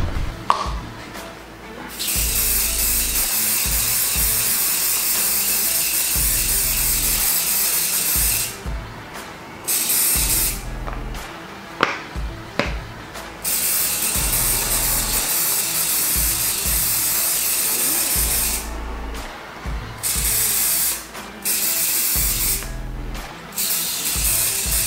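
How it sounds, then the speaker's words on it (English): Crep Protect protective spray misted over sneakers in repeated long hissing bursts separated by short pauses, loud and close, with no talk. "it says you gotta spray this completely over and let it sit for 10 minutes"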